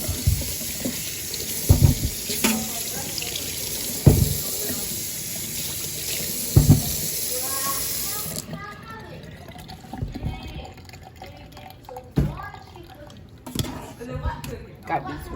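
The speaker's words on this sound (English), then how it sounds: "So then you want to wash these things in your sink." Potatoes are washed under a running tap in a kitchen sink: a steady rush of water with handling knocks and splashes stops about halfway through, and a voice talks at times.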